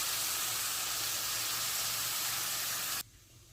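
Water splashed into a hot pan of spices for a Bengali sour small-fish curry sets off a loud, steady sizzle that hisses continuously for about three seconds, then cuts off abruptly into near silence.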